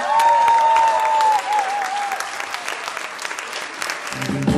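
Big audience applause at a solidarity concert in Berlin, loud dense clapping that holds strong then thins out, with a sustained whistle early on and a voice starting up near the end.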